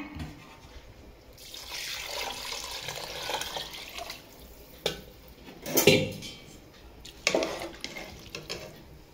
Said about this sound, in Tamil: இப்போ இந்த அளவுக்கு தண்ணி சேர்க்க போகிறேன்